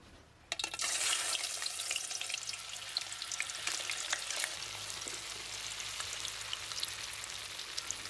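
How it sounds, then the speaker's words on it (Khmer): Tofu and taro drop into hot oil in a pan and burst into loud, steady sizzling and crackling that holds evenly from the moment they go in, with no voices over it. "ជាបន្ទាប់ខ្ញុំមកចៀនតៅហ៊ូហើយនឹងត្រាវខ្ញុំដាក់ពីរមុខហ្នឹងបន្លែហើយយើងចៀនឲ្យឆ្អិនមក"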